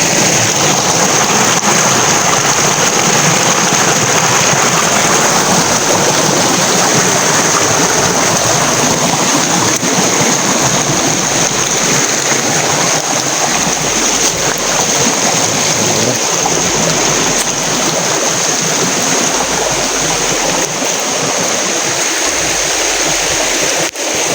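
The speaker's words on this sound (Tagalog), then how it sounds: "So, malakas yung ulan to, no?" Steady, dense roar of heavy rain pouring without pause, loud and close throughout.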